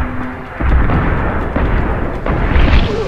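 A boss's weapon fire in Deus Ex: Human Revolution, heavy booming blasts and explosive bursts rolling loud and continuous, close to the player with no talk.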